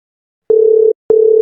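Telephone call tone heard while dialing out, two clean, loud steady beeps of about half a second each, separated by a short silence, with nothing else underneath.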